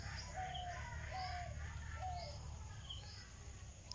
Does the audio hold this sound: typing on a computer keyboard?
no